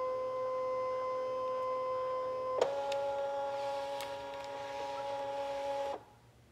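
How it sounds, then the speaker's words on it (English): Fabric cutting machine scanning background fabric, a steady motorized hum with a clunk midway, a shift in pitch, then a few light clicks before it stops abruptly. "I am scanning in the background fabric so I can place my cut file on top of it."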